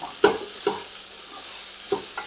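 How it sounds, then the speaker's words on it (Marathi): Okra being stir-fried in a pan with salt added, a few distinct scraping stirs spaced out over a low, steady background sizzle, close and moderately quiet with no talking. "हे बघा, आता याला छान मस्त परतून घेतलेलं आहे."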